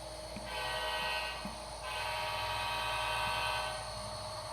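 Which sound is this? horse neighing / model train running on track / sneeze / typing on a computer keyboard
model train running on track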